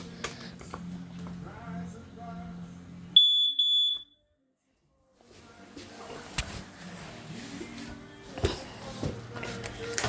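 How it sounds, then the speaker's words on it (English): A home smoke alarm sounds during a test: a piercing high electronic beep rings in a short burst around three to four seconds in. Before and after it there is room noise and handling. "So next we're gonna do this smoke alarm,"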